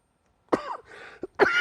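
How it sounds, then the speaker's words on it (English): A man coughs sharply a few times in quick succession, close and fairly loud, with a brief pause between the bursts. "my cough is kicking me up there"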